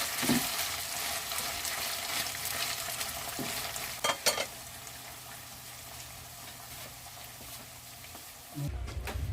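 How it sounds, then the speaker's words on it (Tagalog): Spicy chicken pastil with vinegar sizzles quietly in a frying pan as it is stirred, with soft scraping and a few sharper clinks of the utensil against the pan near the middle and the end. "Pag nakasingaw na yung suka, pwede mo na siyang halu-haluin."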